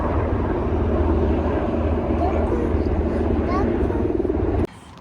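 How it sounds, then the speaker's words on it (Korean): Helicopter flying overhead with a loud, steady rotor and engine roar that fills the whole stretch before cutting off abruptly near the end. "헬리콥터. 헬리콥터다."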